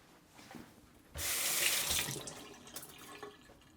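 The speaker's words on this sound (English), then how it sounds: "Let me rinse it really quick." Water from a tap pours onto a Monstera adansonii plant being rinsed at a sink, a loud, close rush lasting about a second and a half before tapering into splashes and trickles.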